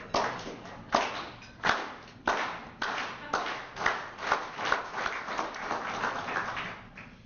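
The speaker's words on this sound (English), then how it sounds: "I think we should slow clap him in this morning" A slow clap from a staff awards audience: separate, heavy claps roughly every two-thirds of a second, then quickening into a denser patter of applause toward the end.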